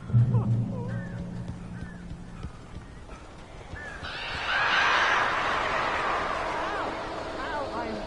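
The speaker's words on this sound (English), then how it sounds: "These birds are weird." Birds in Alan Wake Remastered caw and call over a low ambient bed, rising into a louder, busier flurry of cries partway through, with no talk.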